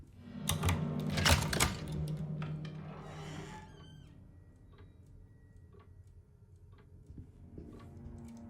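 Typewriter keys clack in Alone in the Dark, a loud flurry of quick mechanical strikes at first that thins into sparse, quieter ticks over a low ambient drone.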